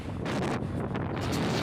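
Motorcycle ride on the road to Mathura, with steady, loud wind rumble buffeting the microphone throughout and the bike's drone buried beneath it.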